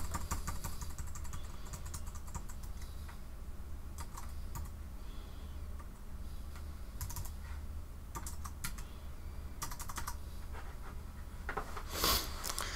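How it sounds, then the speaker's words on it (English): Credit card details being typed on a computer keyboard, a steady run of light rapid key clicks with short pauses, close and alone with no talking. "I go ahead and enter my credit card information."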